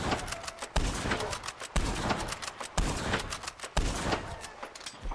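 Non-rapid gunshots fired in the video game Red Dead Online, five sharp, evenly spaced reports about a second apart, loud and close, with crackling echo and tail between shots.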